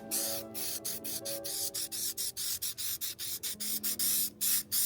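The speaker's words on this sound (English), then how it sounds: "We're just taking a gingerbread color and spray painting it on." An aerosol can sprays gingerbread-brown paint onto a plywood cutout for outdoor Christmas yard art, a loud, close hiss broken into many short rhythmic bursts with brief gaps.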